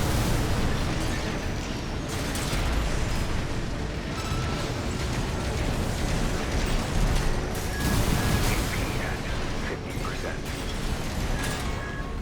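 Heavy missile launchers firing in Armored Core 6, a dense, continuous wash of mechanical rumble and bursts with repeated booming impacts, loud and sustained throughout with no clear pauses.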